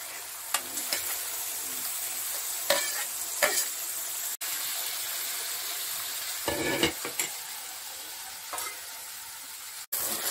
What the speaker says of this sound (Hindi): प्याज फ्राई हो चुका है, अभी अदरक और लहसुन कढ़ाई में डाला है